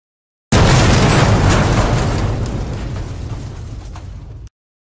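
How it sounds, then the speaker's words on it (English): A loud explosion sound effect in a Star Wars audiobook, heard as a single sudden boom with a roaring rumble that slowly fades over about four seconds before cutting off. "a sudden explosion hurled Luke back in his chair"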